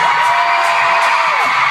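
A stadium concert crowd of tens of thousands screams and cheers loudly in a dense, continuous roar with high whoops, no one talking over it.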